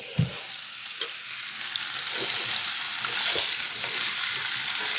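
Potatoes frying in oil in a Carote pan give a steady, close hissing sizzle, broken by a few sharp clicks and knocks of stirring, with no talking.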